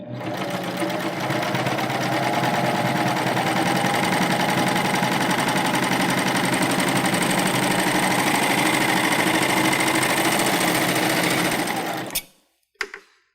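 Baby Lock Euphoria cover stitch machine stitching fabric fed through a strap-folding attachment, a fast even mechanical whir held steadily for about twelve seconds before stopping with a few clicks.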